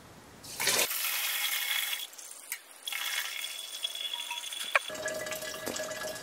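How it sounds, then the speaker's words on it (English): Wort for a Simcoe pale ale flows and pours through hops in a homebrew setup, a close rushing splash of liquid that starts, pauses, then resumes with a small clink. "The wort will flow through that"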